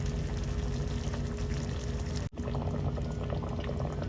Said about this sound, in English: then you can add your broth to it